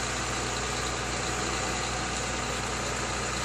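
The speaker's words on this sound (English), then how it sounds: "Claas Lexion 740, Series C48, APS hybrid, diesel combine." A Claas Lexion 740 Series C48 APS hybrid diesel combine engine idles at a farm auction, giving a steady, broadband mechanical drone with a low hum, continuous and fairly close, with no voices over it.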